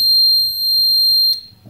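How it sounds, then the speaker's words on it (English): A buzzer on an Arduino-based LPG gas leakage detector sounds as a loud, steady electronic tone held continuously for over a second, then cuts off abruptly, followed by faint background noise. "So whenever the percentage crosses the limit,"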